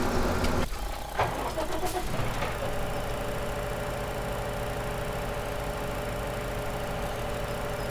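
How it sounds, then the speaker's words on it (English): A tractor engine in Farming Simulator 17 cranks and fires up, with a brief rough start that settles into a steady, loud, droning idle. "We need to start the other tractor first to make this look a little bit more realistic."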